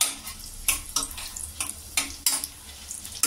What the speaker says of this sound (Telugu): నేను ఒక మీడియం సైజ్ ఆనియన్ తీసుకొని ఈ విధంగా సన్నగా కట్ చేసిన వీటిని వేసి కొద్దిగా ఫ్రై కానివ్వాలి